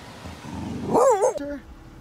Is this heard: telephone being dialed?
no